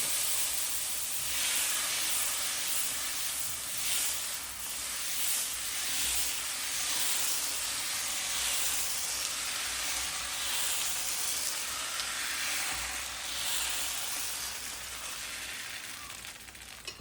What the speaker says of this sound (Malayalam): അപ്പോഴത്തേനും ഞാൻ വന്ന് ചൂട് ദോശ അങ്ങ് ചൂടുവാന്നേ